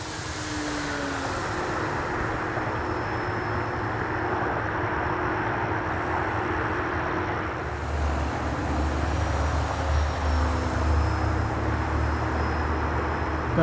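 A Tower Hobbies P-51B radio-controlled model airplane at full throttle climbs steeply, its engine a sustained distant drone whose pitch shifts as it flies overhead, steady and unbroken with outdoor background hiss.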